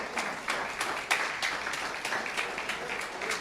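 Applause from a church congregation, a dense, steady patter of many hands at moderate distance with rhythmic surges, sounding alone without any voices.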